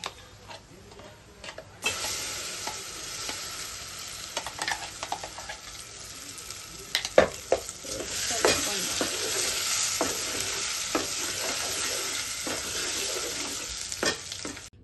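A spoon scrapes and taps against a pan as gongura chutney is stirred into a hot tempering with the stove off, giving irregular clinks and clicks over a soft, steady sizzle.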